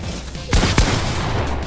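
Gunfire in the video game Fortnite: two sharp shots about a quarter second apart over a steady game background, with no talk.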